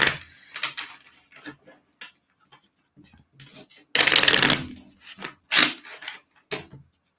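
Tarot cards being shuffled in bursts of papery riffling, a long dense stretch in the middle and shorter flicks before and after, close up with some talking around it.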